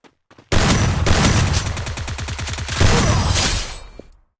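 Rapid gunfire in the battle royale game Free Fire, shotgun blasts blending into a dense, loud volley lasting about three seconds, with a rattling repeated pattern before fading out.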